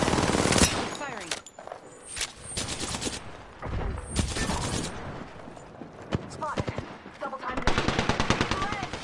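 Video game gunfire crackles in bursts: rapid machine-gun strings and single sharp shots arrive in clusters with short gaps between them, fairly close and dominant in the mix.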